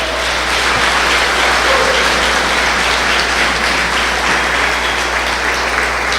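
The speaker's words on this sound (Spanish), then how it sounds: "Dale un fuerte aplauso al Señor" A church congregation applauds loudly and continuously at a Spanish-language service, a dense, steady wash of clapping throughout with no talk over it.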